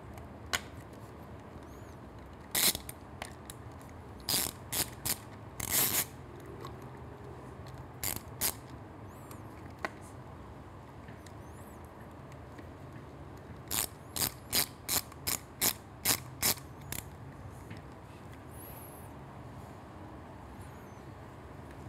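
A ratchet driving a T30 bit tightens a screw while a drag pipe exhaust is installed on a Triumph Street Twin, with bursts of sharp rapid clicks separated by pauses, close and crisp over a quiet background.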